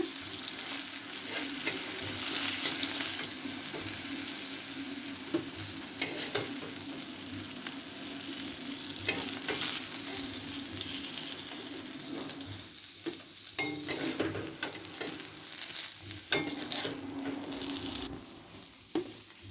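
Pieces of rui fish fry in hot oil with a constant crackling sizzle, punctuated by occasional louder spits and pops and the scrape of stirring, all fairly close and without talk.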